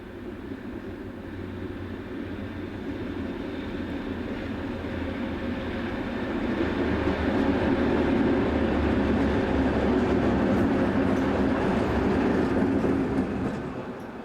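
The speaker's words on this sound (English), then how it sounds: "Re-engined Class 232 number 233450 runs from the depot and out towards the departure sidings." A re-engined Class 232 diesel locomotive pulls out of a depot toward departure sidings, its low engine rumble swelling partway through, then holding heavy and steady before easing slightly at the end.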